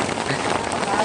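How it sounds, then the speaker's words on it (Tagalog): Steady rain falls during a milkfish fishing outing, a dense, even hiss of drops hitting surfaces close by, continuous and fairly loud across the whole moment with no thunder. "Umuulan na."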